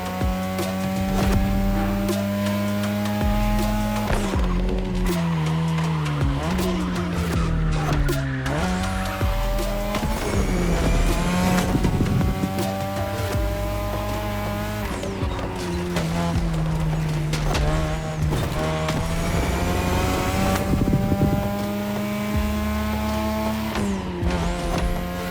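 Race car engines roar without a break through a Japanese street race in The Crew Motorfest, revving and shifting while tires squeal and skid again and again through the corners, loud and close.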